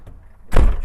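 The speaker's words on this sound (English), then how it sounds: "Shut the door." An HGV cab door shuts with a single heavy, dull thud after a moment of near quiet, close and loud.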